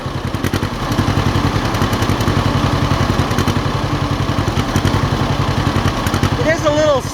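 An old '50' tractor engine starts up and settles into a loud, steady, close chugging idle, running slightly uneven on one cylinder.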